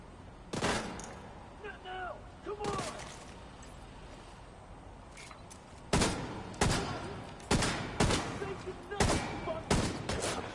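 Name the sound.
shotgun gunfire in video game The Division 2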